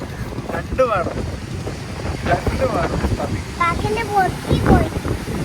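Gusty beach wind rumbles low and steady across the microphone as several people chatter close by.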